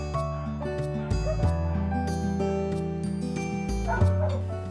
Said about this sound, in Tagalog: Inexamine at tinest ko ang mga na-rescueng aso ni Rina.